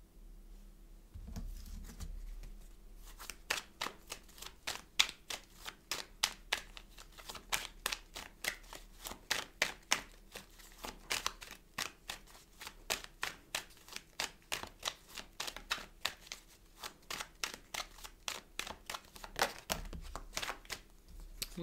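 Oracle cards being shuffled by hand, a couple of cards falling out: rapid, crisp riffling slaps in dense bursts, close and fairly quiet, with a soft low thump near the start and no talking.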